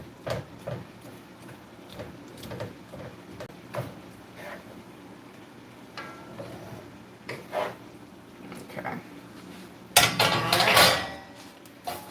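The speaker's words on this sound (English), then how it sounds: "Right now I'm just trying to break up these hunks of cabbage" Cabbage chunks being broken up in a pan while halušky cooks, giving a steady run of scraping and clattering knocks on the cookware, with a louder, busier burst of frying noise near the end.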